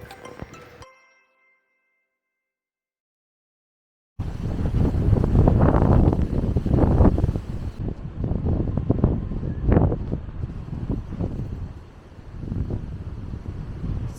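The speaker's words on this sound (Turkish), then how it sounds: "Dışarıda şu an inanılmaz bir rüzgar var." Loud, gusty wind buffets the microphone in a continuous roar, rising and easing in waves, after a brief moment of near silence at the start.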